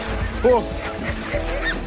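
Sled dogs in a village near Yakutsk give a few short yips and whimpering barks close by, with wind and a voice in the background.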